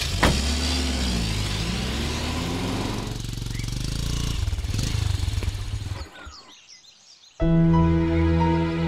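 A car engine runs loud and close in an action movie, revving and droning for several seconds, dropping away briefly, then returning abruptly at full volume as the vehicle pulls off.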